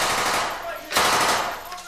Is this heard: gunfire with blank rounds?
yes